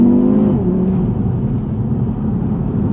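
A 2019 Audi TT RS engine pulls hard under acceleration, a loud, close, steady droning roar with a brief rising tone at the start settling into a deep sustained growl, no talk.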